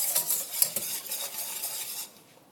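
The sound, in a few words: stirring tiramisu mixture in a bowl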